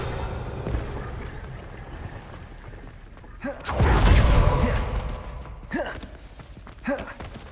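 A Revelio spell cast in Hogwarts Legacy swells midway into a loud whooshing surge that fades out. Quieter game ambience sits before it, and a few brief sweeping chimes follow.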